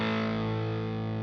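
An electric guitar runs through a Sonicake Fazy Sandwich fuzz pedal set backed off, giving a thick, sustained distorted tone that holds steady and dense for just over a second with no talking.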